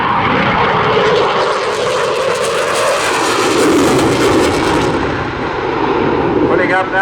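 A Eurofighter Typhoon FGR4 jet performs a high-speed barrel roll at the Southport Airshow 2022, a loud continuous roaring engine rumble sustained for seven seconds, with a commentator's voice over the public address.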